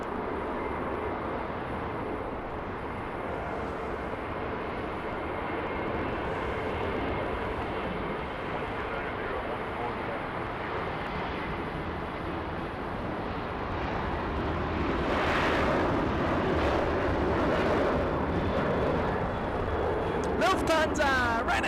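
A Lufthansa airliner passes near a Los Angeles plane-spotting spot, its engine roar a steady broad rumble that swells toward the end, with people talking over it.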